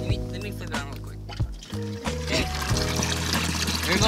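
A boat's live well pump runs on a largemouth bass fishing lake, water pouring and trickling into the tank with gurgles and splashes, close up, alongside a steady low pump hum and occasional knocks.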